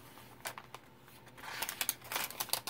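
Dry coffee-dyed paper crinkles and rustles in short bursts, growing busier and louder toward the end, handled close up.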